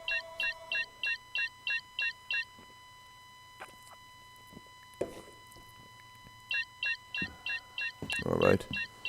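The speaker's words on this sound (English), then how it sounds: "Just going to ignore that phone, because it's not important." A phone rings during a Star Citizen game session: a quick electronic ringtone of repeated bright pulses sounds steadily at first, pauses, then returns, amid faint background noises.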